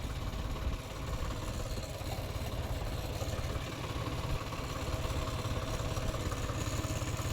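A tractor engine chugs steadily as it drives through a field during a groundnut harvest, close and continuous with a rhythmic low thrum and light clatter, no voices.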